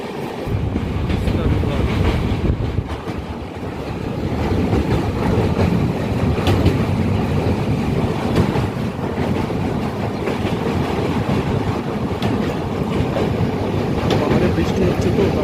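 A train passes through a station without stopping, a loud, continuous rumble and rattle with rhythmic clatter of wheels on track and wind buffeting, heard from close by.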